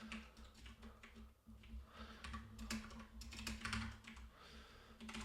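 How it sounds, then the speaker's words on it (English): Steady typing on a computer keyboard during a developer command-line demo: quick, uneven clusters of close, crisp key clicks over a low electrical hum, with no talking. "Now we'll see if I can type."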